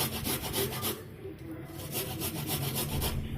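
Cassava tuber grated by hand on a carrot grater, a steady rhythmic rasping scrape repeating in quick strokes, close and loud, with a brief pause midway.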